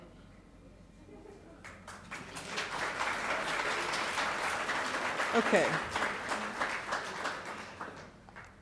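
Audience applause breaks out during a name-reading ceremony, a steady wash of many hands clapping that swells and holds, with a few spoken words over it.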